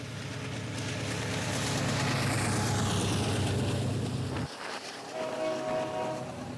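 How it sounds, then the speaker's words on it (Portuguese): An ore train on the railway running from Carajás in Pará to the port of São Luís passes with a loud, continuous rumbling roar that suddenly drops away near the end, leaving fainter clatter. "A ferrovia que leva o minério segue de Carajás, no Pará, até o porto de São Luís,"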